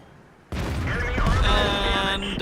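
Tank cannon firing in a tank video game featuring the Super Pershing: a sudden loud blast that rolls into a sustained booming, echoing tail for about two seconds.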